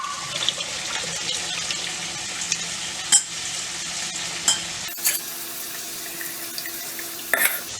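Water is poured into sizzling spiced masala in a pan while making paneer peas pulao, giving a steady hiss and splash of frying liquid with a few brief clinks of utensils.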